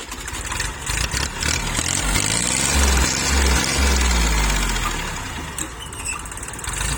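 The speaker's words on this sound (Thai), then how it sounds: "สตาร์ทเลย ใบดันกับฐานสามนะครับคันนี้ ขับเคลื่อนสองล้อนะครับ เครื่องยนต์เป็นเครื่องสามสูบ" A small three-cylinder diesel engine on a used two-wheel-drive tractor cranks and catches, then settles into a steady, loud low chugging idle close by.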